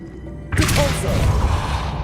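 A Depulso spell cast in Hogwarts Legacy, a sudden close whooshing blast that slams into a heavy thud and crash, then trails off in a dense rumbling clatter.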